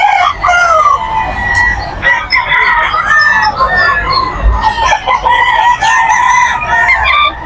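Black Alabama rooster crowing repeatedly and loudly at a busy pet market in Bocaue, with overlapping crows and clucks from other fowl nearby.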